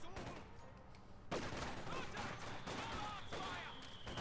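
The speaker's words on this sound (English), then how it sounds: "Overall, conscript's just opening fire." Rifle fire from conscript infantry in the World War II strategy game Company of Heroes 2, a continuous crackle of shots and bursts under battle noise, growing louder and denser partway through.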